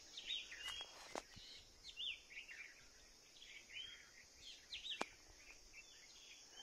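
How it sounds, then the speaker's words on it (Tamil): Small birds chirp in quick, high twittering bursts, faint and scattered, at a hill trekking viewpoint, with a few sharp clicks and insect hiss in the background. "சின்ன சின்ன பறவைங்க, சத்தம்லாம் சூப்பராக கேட்குது"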